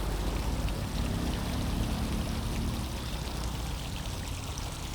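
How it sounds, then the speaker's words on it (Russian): A city fountain on a warm autumn evening in Luhansk, its water murmuring and splashing in a steady, continuous wash heard close by. "И еще приятно журчит вода."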